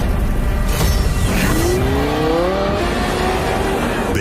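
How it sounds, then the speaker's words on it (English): A 2021 Lamborghini Huracan STO engine roars and revs upward, the note climbing as it accelerates over heavy rumbling road noise. "Based on the progressive roar of the engine."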